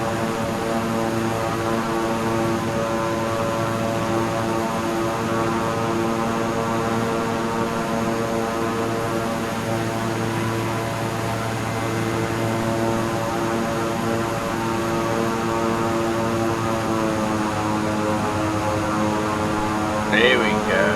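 A propeller aircraft engine in Microsoft Flight Simulator 2020 revving high, holding a steady buzzing drone with layered harmonic whine throughout, and a brief chirp near the end.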